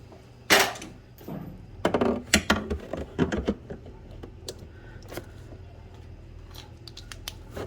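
Cutters snipping the wires of the fender harness on a 2021 Suzuki Hayabusa, a sharp loud snap followed by several quicker clipping cuts close by, then quieter handling noise, with no talking.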